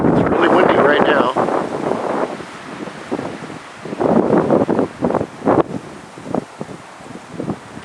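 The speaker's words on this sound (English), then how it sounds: "really windy right now" Strong gusts of cold wind buffet the microphone outdoors by a fence and trees damaged in a storm, rumbling in uneven surges with occasional rustling, while a person speaks at times over it.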